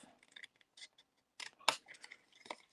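Scissors cutting a small sliver from a paper craft piece for a mini explosion box, heard as quiet, close snips and paper rustles with one sharper cut in the middle, no speech.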